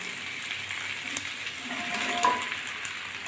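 Lentil fritters dropped into a simmering curry with turmeric, giving a steady soft sizzle and bubbling with a few light clinks of a utensil, close and alone with no voices.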